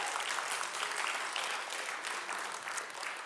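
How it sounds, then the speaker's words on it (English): Attendees at a wedding, portrait and event photography conference give themselves a round of applause, a full, continuous roar of clapping from a packed room that swells briefly before easing slightly at the end. "So give yourselves a round of applause."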